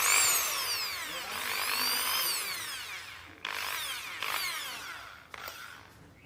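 An electric drill freshly greased and reassembled runs in several bursts, its motor whining up and down in pitch, near and fairly loud, with short pauses between spins.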